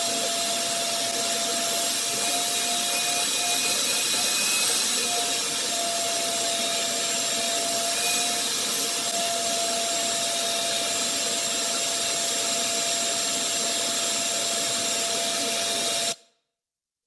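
A shop vacuum fitted with a cyclone separator runs steadily with a loud, constant whine and rushing air, continuing without change until it stops abruptly at the end.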